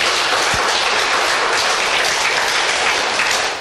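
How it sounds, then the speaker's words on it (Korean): Loud, sustained audience applause fills a seminar hall, a thick wash of many hands clapping at once that holds steady throughout without talk. "한번 박수 부탁드리겠습니다."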